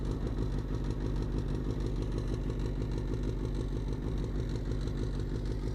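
A Bullet motorcycle engine idles off-road with a loud, steady, low thumping pulse that runs unbroken and close throughout.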